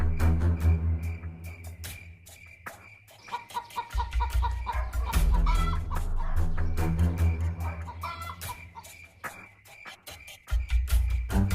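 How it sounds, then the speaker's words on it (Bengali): Cartoon chickens cluck and crow in a farmyard scene, with repeated bursts of clucking over background music. "কতগুলো মুরগি!"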